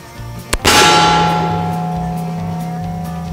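Steel target struck by a .44 bullet from an 1858 New Army revolver, the gunshot crack followed at once by a loud bright clang that rings on and slowly fades over several seconds.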